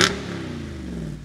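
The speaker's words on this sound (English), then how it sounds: "an exhilarating, unmistakable V8 sound" Jeep Wrangler V8 engine heard through a dual-mode exhaust, a brief low rumble that opens with a sharp burst and then settles into a steady, moderately loud idle-like drone.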